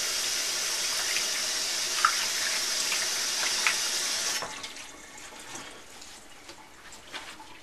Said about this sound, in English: I want to rinse off my hands.